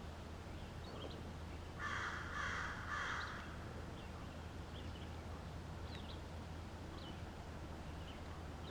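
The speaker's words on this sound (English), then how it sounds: "So quiet, all you hear are the birds." A crow caws in a short run of three harsh calls, fairly near, over a steady low outdoor hum, then faint distant bird chirps.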